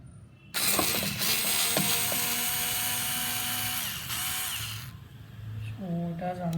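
A Black & Decker KC4815 cordless screwdriver runs in reverse to back out a screw, its close, steady motor whine lasting several seconds before stopping, followed by a faint lower hum.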